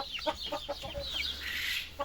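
Turkeys on a farm give a run of rhythmic, throaty gobbles and clucks, close and fairly loud, ending in a higher, noisier call.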